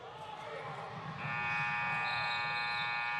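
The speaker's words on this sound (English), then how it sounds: "Looks like that buzzer beater by Hedquist couldn't get that one to go" A sustained electronic buzzer sounds at the end of a quarter in a women's college basketball game between TAMUSA and Xavier, steady and loud over arena crowd noise and court sounds.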